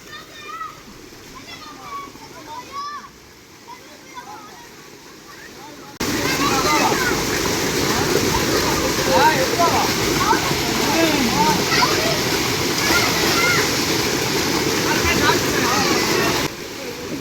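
Children splashing and playing in cold tubewell water on a hot summer day, with continuous rushing, gushing water and lively kids' voices and shouts throughout, growing louder and denser partway through.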